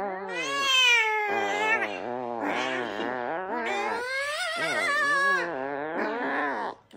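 Hungry jaguar cubs cry continuously with loud, wavering, cat-like yowls and mewls that rise and fall in pitch and overlap one another.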